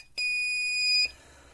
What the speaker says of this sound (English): it's operating the buzzer